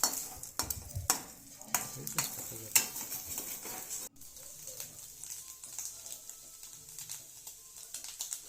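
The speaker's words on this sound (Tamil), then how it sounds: "முட்டையை நல்லா வறுத்து அதை ஒரு சின்ன கிண்ணத்தில் எடுத்து வச்சுக்குங்க" Eggs fry in a pan with a close, lively sizzle and repeated clattering stirs of a spatula against the metal, busy at first and then settling into a quieter steady crackle, with no talking.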